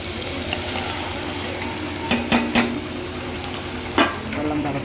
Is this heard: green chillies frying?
yes